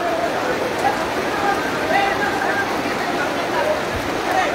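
Steady rain pours down close by, a dense, even hiss of drops on surfaces that holds at the same level throughout.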